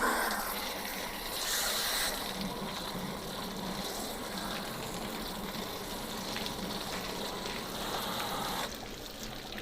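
Rushing, steady water flushing chunks of rust out of the block and cylinder head ports of a 1972 Pontiac GTO engine, a continuous gushing hiss close by with no talk.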